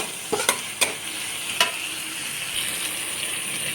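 Taro stolons and greens sizzle steadily in a hot pan, with a few sharp scraping stirs of a spatula early on, close and clear with no voices.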